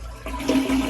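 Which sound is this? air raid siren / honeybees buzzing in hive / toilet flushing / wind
toilet flushing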